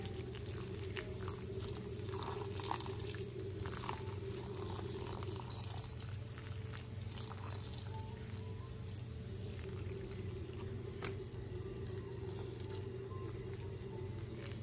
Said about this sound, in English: So I'm just gonna hand water with my bucket.